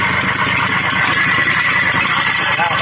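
A village motorcycle used for hauling palm oil fruit, revved up in a workshop: a loud, close, continuous engine roar, rising in pitch with a faint squeal, and no voice over it.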